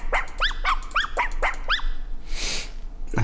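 A dog barking sample from the Mixwave Jay Weinberg drum plugin: about eight quick, sharp yapping barks in a rapid rhythm, close and loud, followed by a brief noisy burst.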